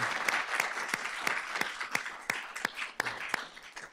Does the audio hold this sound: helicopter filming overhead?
no